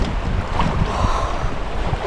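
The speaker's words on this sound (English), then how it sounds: "And windy. Very windy." Strong wind at Lake Diablo buffets the microphone with a loud, continuous rumbling roar, waves faintly washing beneath, no voices.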